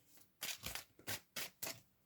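Tarot cards are shuffled by hand in a quiet room, giving five or six soft, papery bursts of riffling in an uneven rhythm, close and faint, with no one talking.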